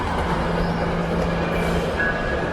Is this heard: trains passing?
yes